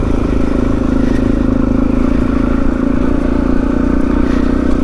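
An off-road motorcycle climbs a hill in second gear on a muddy green lane of the Pilgrims Way in Kent, its engine droning loud and close under steady load with rattling and clatter throughout.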